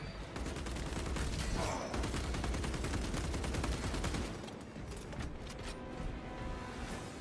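Sustained gunfire from a Space Marine 2 battle, dense rapid bursts layered into a constant loud roar that thins slightly near the end, with no voices.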